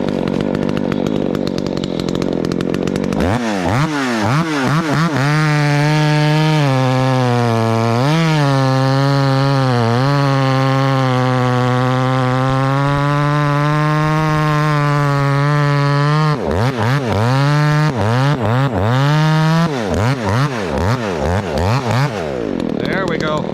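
A Poulan 295 chainsaw bucking firewood, engine loud and close, revving up and holding under load through the cut, dipping and rising in pitch, then idling and revving again.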